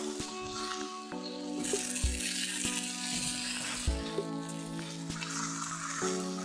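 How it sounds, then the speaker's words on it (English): Spring onions sizzle steadily in a pan alongside skin-side-down chicken for a grilled peri peri dish, a continuous close frying crackle with faint tonal hum underneath and no talking. "So now just turn the spring onions, so it's nice color."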